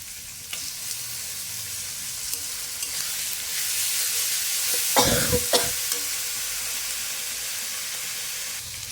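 Ginger garlic paste hits fried onions in a pan for a chicken and wings kosha, giving a steady bright sizzle throughout, with a louder burst of scraping and stirring midway.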